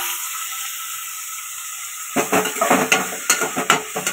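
Tomatoes go into a hot pan with sizzling and a quick run of clatters and scrapes against the pan after a short quiet start, over a steady background hiss.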